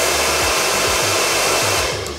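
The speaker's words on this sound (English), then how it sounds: "we're gonna use the Babyliss hairdryer and just hit it with some heat" A Babyliss hair dryer blows steadily at close range, a loud continuous whoosh with a low motor hum and no pauses.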